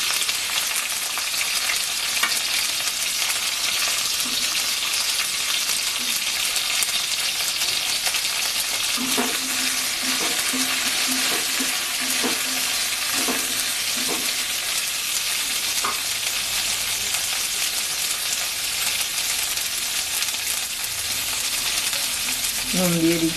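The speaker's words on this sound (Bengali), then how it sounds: "বরবটিটাও একটু ভেজে নেব।" Yardlong beans (borboti) frying in a pan, a steady close hiss of sizzling oil with occasional scraping stirs, no talk.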